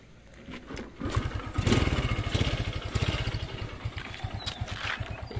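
An old Modenas GT128 motorcycle cranks for a moment, then its small single-cylinder engine catches and settles into a fast, loud, close-up chugging idle with no talking.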